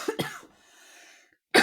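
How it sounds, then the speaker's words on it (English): A person coughing twice in quick succession, close to the mic, then a quiet pause and a third harsh cough at the end. "I'm coughing."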